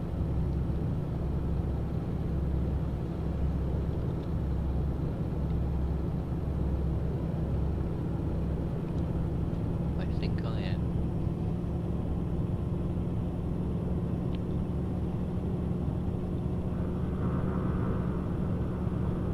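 A heavy haulage truck hauling a 30-tonne load in Euro Truck Simulator 2 cruises at low revs, giving a steady, faint, low engine drone with no speech over it.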